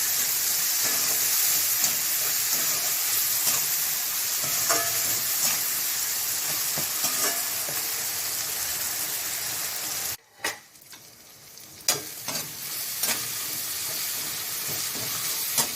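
Tomato gravy for paruppu urundai kuzhambu fries loudly with turmeric being stirred in, a constant close sizzle with spoon scrapes, briefly cutting out before resuming with a few knocks against the pan.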